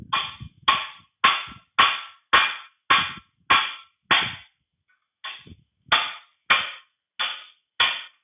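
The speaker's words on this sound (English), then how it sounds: "hit it with a hammer and try to push the shaft through." Sharp metallic hammer strikes on a steel rod driving a shaft out of a 1953 Allis Chalmers B tractor final drive, about a dozen evenly spaced blows with a brief pause midway, close and ringing.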